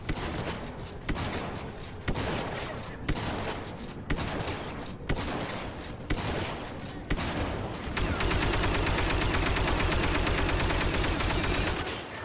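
Blaster gunfire in the video game Star Wars Battlefront II, a fast run of loud evenly spaced shots that gives way to a dense continuous barrage of firing.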